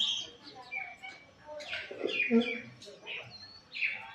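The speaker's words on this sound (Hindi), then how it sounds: "बाकी सब भी चिड़िया सब आ ही रही है पानी पीने के लिए" Small birds chirping in short, scattered tweets as they gather to drink water, fairly close, with a voice speaking in between.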